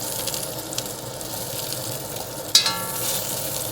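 Onion frying in a pan, a steady close sizzle throughout with a brief louder clatter of stirring partway through, no voices.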